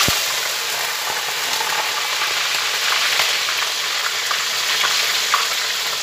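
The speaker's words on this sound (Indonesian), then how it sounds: "ini minyaknya sudah panas kita akan goreng ikannya" Fish sizzling in hot cooking oil, a steady dense crackle with scattered pops and spatters that holds at an even, close loudness throughout, no voices.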